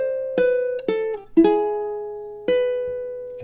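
Ukulele notes from a tutorial for a Christmas song ring out close and clear. Four plucks, some of them strummed string pairs, sound one after another and each decays slowly, with no talking.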